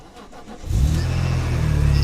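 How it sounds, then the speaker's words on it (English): A high-mileage BMW E46 M3 with SMG gearbox cranks and fires up, its engine catching with a loud rise then settling into a steady, close idle rumble. "And start the engine."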